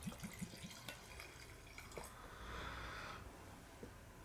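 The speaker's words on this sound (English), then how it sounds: "we'll just jump right into pouring some into the glass and see what happens there." Teacher's Highland Cream blended Scotch whisky poured into a glass gives a soft, faint liquid trickle with light drips and clinks, close and quiet with no talking.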